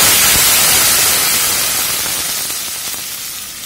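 Lemon juice hits a hot tempering of chillies and dals for lemon rice, producing a loud, dense hiss of sizzling that starts at full strength and slowly fades over a few seconds.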